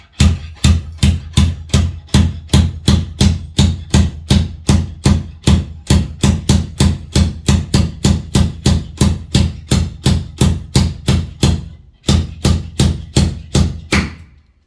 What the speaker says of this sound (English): I can try this slide hammer on these ones.